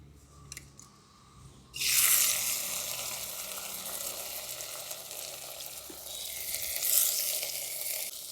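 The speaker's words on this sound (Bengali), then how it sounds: "তেলটা গরম হয়ে গেছে, প্রথমে আমি চিংড়ি মাছগুলোকে ভেজে নেব।" Prawns drop into hot oil and burst into a loud, steady sizzle that carries on without a break, swelling again briefly near the end, with no voices over it.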